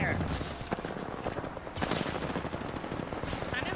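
Rapid automatic gunfire from Apex Legends rattles almost without pause, loud and close, in dense overlapping bursts that fill the whole stretch.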